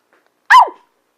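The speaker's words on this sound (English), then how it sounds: "the yelping motivates him to stop" A dog being trained out of mouthing gives a single short, sharp yelp-like bark, close and loud in otherwise quiet surroundings.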